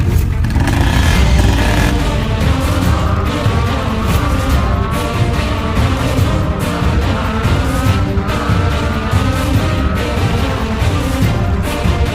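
A car tearing through narrow streets, its engine revving hard and steady, with tires squealing and skidding through turns, loud and close throughout.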